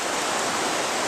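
River water rushes steadily past debris and a fallen tree, a dense, loud broadband roar with no breaks, heard close and alone.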